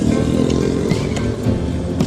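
A motorcycle passes on the Lingkar Gentong road between Malangbong and Limbangan toward Bandung. Its loud, close engine drones steadily with slight rises in pitch.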